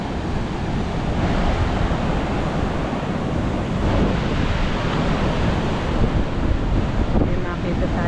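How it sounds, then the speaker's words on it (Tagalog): Strong ocean waves on the Zambales coast in the Philippines after a typhoon, a continuous loud roar of surf with wind buffeting the microphone, steady throughout with no talk. "Ito, lumakas ang alon."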